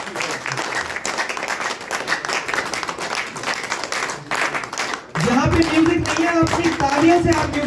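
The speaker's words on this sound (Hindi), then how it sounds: "दोस्तों तालियां बजती रहनी चाहिए।" Steady audience applause fills a community celebration hall in Shimla as a leader makes his entrance, dense clapping throughout, then a louder burst with music or cheering joining in near the end, voices mixed into the crowd noise.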